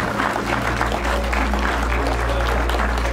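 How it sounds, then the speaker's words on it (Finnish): An audience at a drifting event claps in sustained applause for a drift driver. The clapping is steady and fairly loud over a low engine-like hum, and someone speaks nearby. "antakaa heille Raikolle aplodit"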